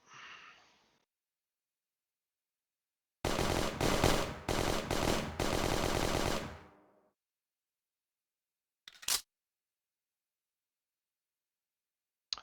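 Bursts of video-game gunfire from a submarine-hunting game: a dense automatic volley of about four seconds with rapid repeated shots, then a lone sharp shot several seconds later, loud against near silence.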